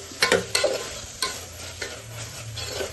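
Vegetables cooked with masala in oil are stirred in a pan with cashews roasted in ghee for a quick vegetable biryani. Close stirring scrapes and clacks sit over a light sizzle.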